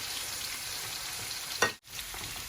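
Spiced pumpkin curry sizzles softly in a pan, a steady low frying hiss with one brief scrape of the spoon as it is stirred.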